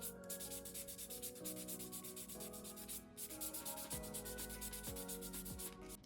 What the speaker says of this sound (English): I like to use the softest side and go over the nail very, very lightly